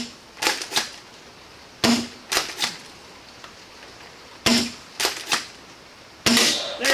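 Foam dart blaster with an Out-of-Darts Unicorn upgrade kit fires darts at targets in an indoor range: sharp snapping shots in pairs and small clusters, spaced by pauses, each with a quick decaying tail.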